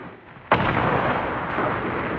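A bomb goes off in the game Content Warning with a sudden loud boom after a quiet moment, followed by a long, rumbling roar that stays loud as it rolls on.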